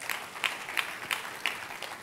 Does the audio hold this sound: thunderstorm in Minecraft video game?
no